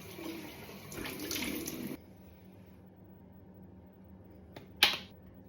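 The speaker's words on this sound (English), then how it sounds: "I'm going to rinse my face with warm water again," Warm water runs from a tap for about two seconds as a face is rinsed, then stops, leaving a quiet room broken by a single sharp splash near the end.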